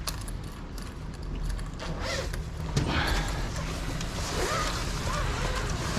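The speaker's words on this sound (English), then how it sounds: "Let's unzipper this." Zipper on a solar panel carry bag being pulled open, a close rasping unzip with creaks and handling rustle across the whole stretch.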